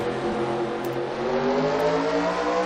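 Several race cars in a NASCAR-style racing video game accelerate together off a green flag start at Suzuka, a steady layered engine roar with rising pitch that holds loud throughout.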